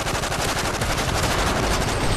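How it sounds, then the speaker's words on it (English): Automatic gunfire in the Call of Duty Modern Warfare 3 video game, a loud, continuous close-range burst of rapid shots filling the whole moment with no pauses. "at least I was firing my fucking gun"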